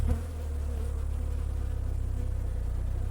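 Honeybees drone from an opened hive during spring hive care, a dense, continuous buzzing hum close to the mic with no talk.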